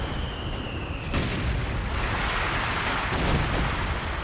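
Mortar shells exploding in a Company of Heroes 2 battle, a dense, continuous roar of booming blasts and rumbling impacts, loud and close, with a sharp onset just after the first second and no talking.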